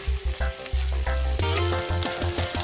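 Rinsed cabbage goes into a hot pan for Southern fried cabbage and fries loudly, a close, crackling sizzle with brief handling knocks and clatter, and no one talking over it.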